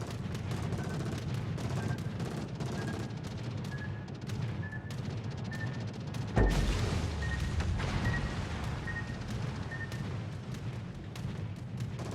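Warship guns fire shells in the naval video game World of Warships. The battle rumbles steadily throughout, a heavy boom lands about halfway through, and there is no talk.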